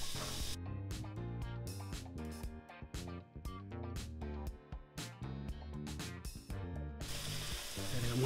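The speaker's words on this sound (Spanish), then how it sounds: "Vamos a sofreír la cebolla." Onion fries in hot oil with a close, continuous sizzle, broken by bursts of crackling and stirring scrapes, with no voices.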